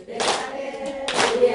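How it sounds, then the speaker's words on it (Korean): Audience applause in a Korean lecture hall, breaking out in two broad bursts of clapping that fill the short span, with some music or singing faintly underneath. "박수 한번 주세요."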